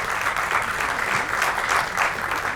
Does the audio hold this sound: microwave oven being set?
no